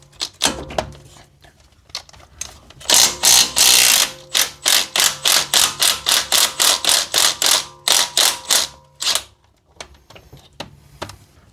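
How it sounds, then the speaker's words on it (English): Ratchet wrench loosening the lower wheel nut on an Audi A3 that sat abandoned for a year, heard as a run of about fifteen loud, rapid, evenly spaced metallic clicks close by, with quieter clanks before and after. "So now we just got this one lower wheel nut to loosen."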